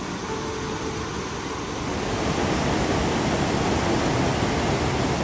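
Rushing water of Vernal Fall in Yosemite, a steady broadband roar that holds constant throughout and grows slightly louder partway through, with no voices.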